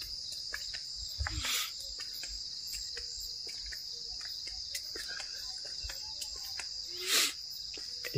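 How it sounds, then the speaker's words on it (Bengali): Crickets at night around a resort near Jaldapara, a dense continuous high trilling chorus filling the background, with a few brief louder bursts and scattered faint ticks on a still, quiet night. "ঝিঝি পোকা প্রচুর ডাকছে।"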